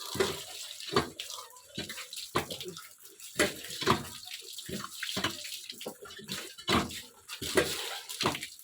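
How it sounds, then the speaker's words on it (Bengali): Taro (kachu) being washed by hand in water, giving repeated splashes and sloshing bursts in an uneven rhythm, close and moderately loud, with no talk. "তো দেখতে পেলে ধুয়ে নিয়েছি।"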